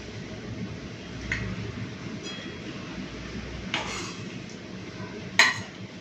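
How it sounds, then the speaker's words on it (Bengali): Pomfret fish curry ladled onto a plate of rice: a few separate metallic clinks of a ladle against the pot and plate over a low background hum, with no speech. "তো বন্ধুরা এই যে ভাত বেড়ে নিয়েছি, চলুন এরপর মাছের ঝোলটা বেড়ে নিই।"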